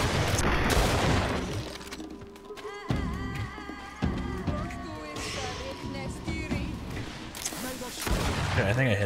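Repeated bursts of gunfire and booming blasts from the video game GreedFall, loud and dense over several seconds, mixed with game music and a voice talking over the action.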